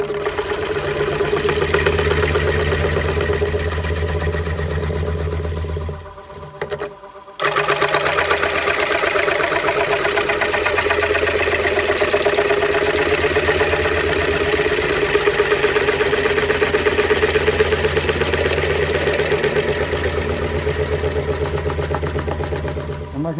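A gouge cuts an ash wall platter on a wood lathe, giving a steady mechanical hum with a scraping edge throughout. The sound dips briefly near the middle, then resumes at the same loudness.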